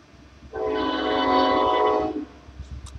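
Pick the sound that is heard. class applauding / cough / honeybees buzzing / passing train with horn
passing train with horn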